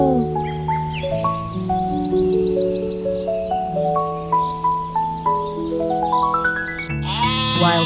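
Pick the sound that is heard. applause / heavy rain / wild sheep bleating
wild sheep bleating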